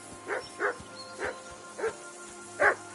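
A dog gives five sharp barks at uneven intervals, each short and moderately loud, heard from a little distance over a faint steady hum.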